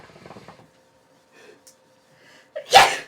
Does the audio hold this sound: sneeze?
yes